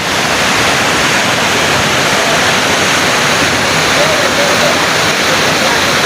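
Tayangiri waterfall pours in a continuous, loud, dense rush of falling water that stays even throughout, with no break or change.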